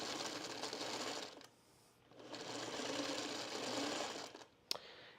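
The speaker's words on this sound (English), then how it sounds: "And then I'm going to just sew all the way down." Electric sewing machine stitching a pillowcase seam with a 5/8 inch allowance: a close, steady whirring run, a short pause, then another sustained run ending with a sharp click.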